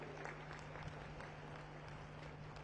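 Applause from a large crowd at the Bastar Pandum cultural festival, a constant dense wash of clapping, fairly distant and even, with a low steady hum beneath it.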